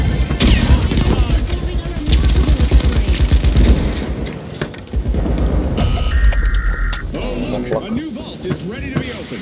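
Rapid gunfire and explosions from the shooter video game The Finals during a ranked match, dense bursts of shots running throughout, with a player's voice talking over the action.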